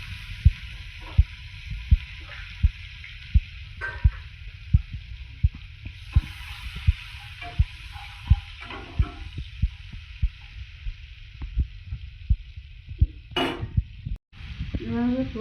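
Onions frying in a pan for a Bengali fish dish, a soft sizzle underneath steady rhythmic stirring taps of a spoon against the pan, close and fairly quiet.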